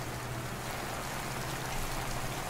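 Timefall rain from the game Death Stranding falls steadily, a soft even hiss of drops on surfaces with no breaks, fairly quiet and without voices.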